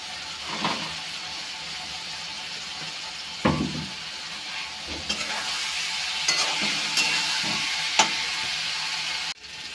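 Spice paste with salt frying in a pan, a steady close sizzle with spoon stirring and scraping, a few louder knocks along the way, no voices.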